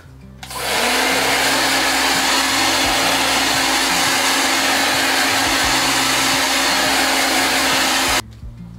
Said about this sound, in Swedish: vi behöver föna mitt hår lite